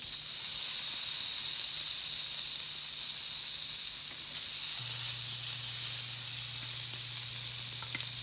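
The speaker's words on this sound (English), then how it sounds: "I've made sure this pan is already hot. And we'll put our sliders like that." Beef sliders sizzle in a hot pan, a steady, close hiss of frying that continues evenly throughout with no talking.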